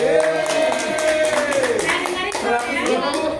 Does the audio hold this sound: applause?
yes